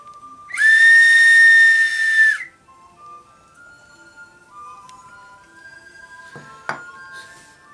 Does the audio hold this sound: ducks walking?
no